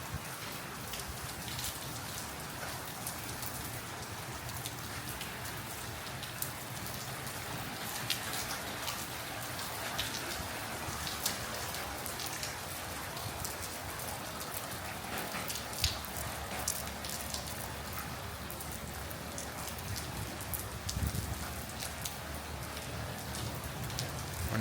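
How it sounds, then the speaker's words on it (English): Steady rain falls onto a new covered patio, a dense, even hiss with soft patters continuing without break throughout. "rain under our new patio"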